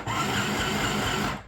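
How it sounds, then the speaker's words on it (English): A compact FHSM-505 mini household sewing machine, driven by its foot pedal, whirs steadily at close range with a fast mechanical hum for just over a second, then stops. "the sewing machine actually works"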